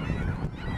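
Geese honking by a lakeshore in Chicago's Miller Park, a short burst of overlapping harsh honks at close to middle distance over steady outdoor noise, no talking.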